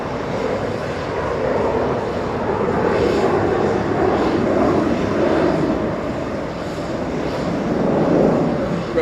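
An American Airlines jet climbs steeply away from JFK, its engine roar a steady, broad rumble holding at moderate loudness over nine seconds, slightly swelling near the end, with faint distant background noise.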